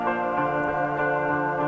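Layered electric guitars with reverb, echo and pedal effects from a track, a dense sustained chordal wash with gently shifting notes, heard alone at steady volume.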